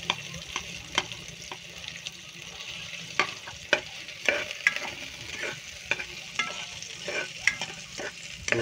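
Onion, garlic and chili frying in a pan, a soft, steady sizzle punctuated by sharp clicks and scrapes of a utensil stirring at irregular intervals, close by with no talking.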